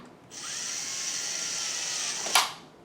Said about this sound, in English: I'm going to use a drill here.